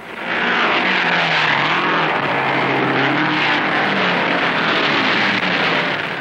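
Race cars roar around a one-mile dirt track at the Sacramento State Fairgrounds during the 100-lap Golden State 100, a loud, sustained engine drone that swells and shifts in pitch as they pass.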